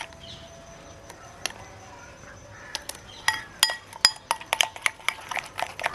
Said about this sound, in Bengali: এটা আমার ফেটানো হয়ে গেছে